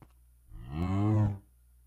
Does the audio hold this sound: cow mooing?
yes